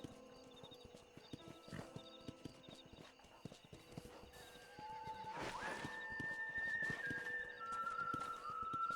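Horse in Red Dead Redemption clopping along steadily with regular hoofbeats, then letting out a loud, clear neigh partway through, followed by whistle-like tones over the continuing hooves, close and distinct.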